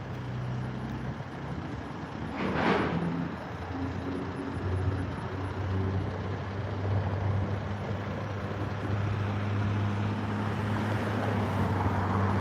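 Traffic passes on Highway 63 right beside the roadside, a continuous rumble of cars and trucks with a brief closer whoosh and some wind buffeting.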